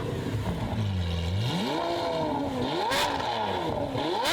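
A Lamborghini Aventador Ultimae with exhaust valves open revs hard and loud up close, its sharp, raspy tone rising and falling in quick sweeps, with crackling pops between revs.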